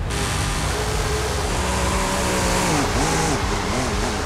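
An Alfa car engine drifts in Forza Horizon 5 at an American-style drift show, loud and close, its revving pitch rising and swooping in repeated waves as the car slides.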